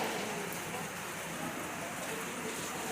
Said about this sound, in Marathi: पाऊस पण तेवढा चालू झालाय.